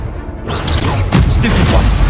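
A Confringo fire-blast spell in Hogwarts Legacy erupts as a loud close boom after a brief quiet moment, followed by crackling, rumbling impact noise that lingers to the end.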